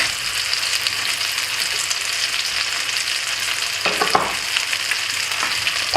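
French toast frying in a pan, a steady close sizzle with a brief clatter partway through as the slices are turned.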